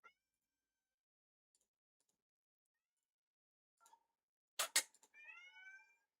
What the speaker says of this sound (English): I wish you guys could hear his meowing